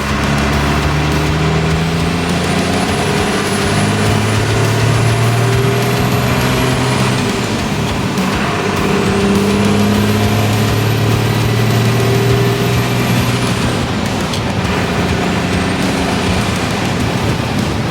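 A truck with a 12V Cummins diesel engine revs, giving a loud, continuous low drone with rising and falling pitch and a faint high whine, heard close throughout.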